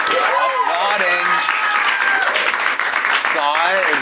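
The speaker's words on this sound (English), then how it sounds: "this audience that's mildly applauding" A studio audience claps mildly, a soft, even patter heard under a person talking over it throughout.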